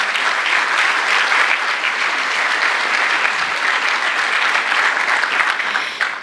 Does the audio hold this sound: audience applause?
yes